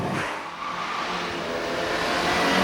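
A Hyundai hatchback driven hard, its engine revving loud and steady with broadband tyre roar and scrabbling wheelspin, continuous and close throughout.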